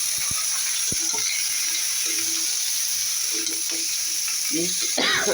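Sweet pumpkin frying in a pan with onion, garlic and chilli, a steady hiss of sizzling under scattered scrapes and clinks of stirring, close and fairly quiet.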